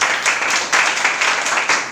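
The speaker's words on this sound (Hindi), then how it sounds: "ताली बजाओ जी।" Church congregation applauding, a steady wash of hand clapping that swells in several short bursts across two seconds, fairly close and filling the room.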